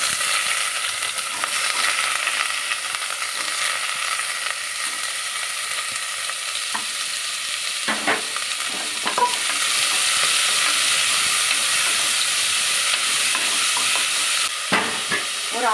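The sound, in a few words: frying onion and green chili in a pan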